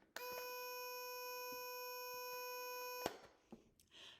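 A small electronic buzzer in a toy helicopter circuit, imitating an engine, drones with a steady, high-pitched tone for about three seconds, then cuts off, followed by faint handling clicks.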